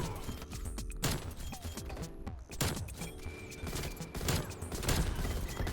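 Dense, rapid gunfire in the Black Ops Cold War video game, with sustained automatic bursts and overlapping shots, loud and continuous with brief gaps and mechanical clatter, no speech.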